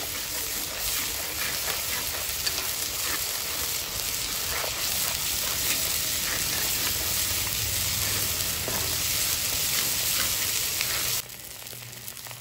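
Ground spice paste of cumin, chili and ginger frying in hot oil for a pomfret fish curry, a loud dense sizzle crackling steadily close by, then dropping abruptly to a quieter hiss near the end.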